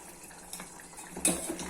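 Thick ground-paste gravy is poured into a pan of kara kuzhambu made with shallots, garlic, radish and tomato, giving a short wet splash and a brief clatter of the vessel in a quiet kitchen.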